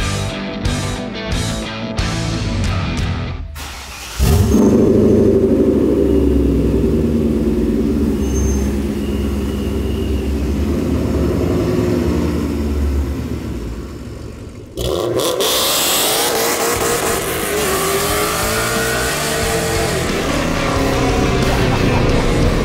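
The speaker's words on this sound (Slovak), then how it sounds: "Aby sme si teda vychutnali ten zvuk a ten záťah toho kompresoru" A supercharged BMW M5 E39 accelerates hard while driving, engine roaring loudly with rising revs, a brief gear-change dip around a few seconds in and again later, then a renewed climb with supercharger whine; no talk.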